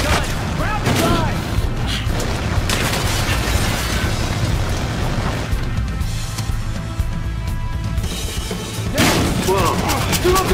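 Heavy gunfire and booming explosions in Battlefield Hardline, including a minigun, with dense bursts and thuds and several people shouting over the noise.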